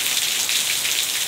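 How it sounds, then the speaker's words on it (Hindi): Heavy torrential rain pours steadily in Kohlu, a dense, continuous hiss of downpour drumming on surfaces, loud and even throughout with no voices. "कोहलू में मूसलाधार बारिशों का सिलसिला जारी है।"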